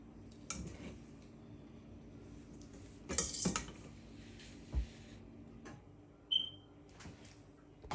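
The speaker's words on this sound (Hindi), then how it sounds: "अब मैं ये पास्ता इस पे डालूँगी। जस्ट हमने बस डाल के मिक्स करना है।" Creamy pink pasta being tossed in a pan with a utensil, soft scraping and a few distinct metallic clinks against the pan, close but quiet, with a low background hum.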